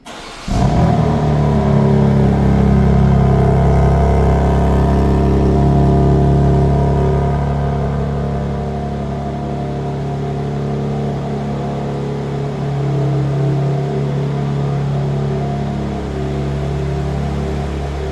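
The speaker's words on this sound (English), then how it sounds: "let's hear that cold start sound" A 2026 BMW M2 engine cranks on a cold start and fires with a sudden burst, then settles into a loud, steady high idle that eases slightly lower over time.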